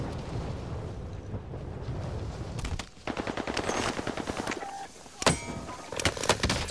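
Automatic gunfire from Call of Duty Warzone on Rebirth Island, with rapid bursts of shots, a short pause, then more bursts and a loud crack near the end, set against steady game ambience.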